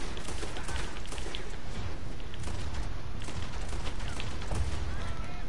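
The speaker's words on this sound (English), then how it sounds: "Let's just shoot people." Gunfire in Red Dead Redemption 2, a dense, constant barrage of shots and booms rolling on without a break, loud and busy throughout with no pauses.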